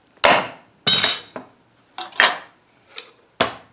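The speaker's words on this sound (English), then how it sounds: "grip your knife, and you might have to seesaw back and forth a little bit, but you want to just go straight down" A kitchen knife chopping straight down through a butternut squash onto a cutting board, with several sharp, separate knocks and clacks in an uneven rhythm, close and clear, with no talking.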